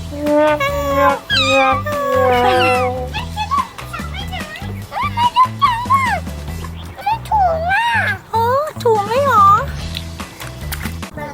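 A cat meows repeatedly at a scout camp with rising and falling cries that are mixed in with children talking and playing nearby.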